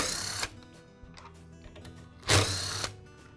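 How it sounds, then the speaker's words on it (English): A cordless drill unscrews the motor end cap on a DeWALT miter saw, with two short loud whirring bursts separated by small clicks and handling of screws and plastic parts nearby. "Now remove the motor end cap."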